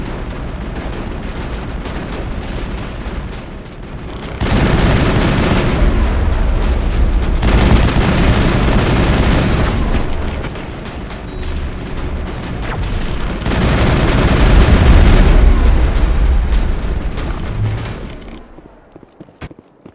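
Heavy crossfire in Mass Effect with Geth and long-range turrets, loud waves of rapid gunshots and booming blasts that surge, ease off briefly, then surge again before dying away near the end.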